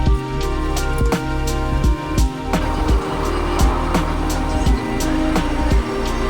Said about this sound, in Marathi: शेवटी धक्का देत गाडी सुरू केली.